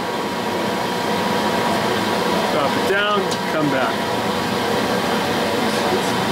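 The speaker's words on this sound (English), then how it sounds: "Sorry for the noise on the lathe." Steady machine hum of a Monarch 10EE metal lathe cutting threads, running continuously, with a brief higher whirring sweep midway and a voice speaking a few words over it.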